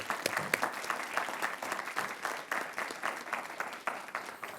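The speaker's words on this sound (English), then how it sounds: "let's give them a round of applause." Council members and attendees at a county council meeting give a round of applause, steady dense clapping heard alone at moderate distance.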